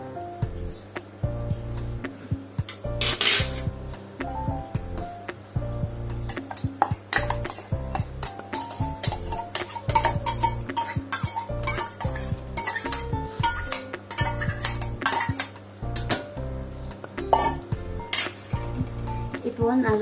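Sakkarai pongal being stirred in a pot, with frequent metallic clinks and scrapes of a spoon against the vessel, irregular and close, over a faint background hum.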